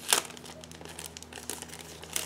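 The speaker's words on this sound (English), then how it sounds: "Next we have small plastic bag with mask sheet. So just give me a second to open it" A small plastic bag holding the mask sheet of an Eduard 1/48 Superbug model kit is opened by hand, with a sharp crinkle at the start, light rustling through the middle and another crisp crackle at the end.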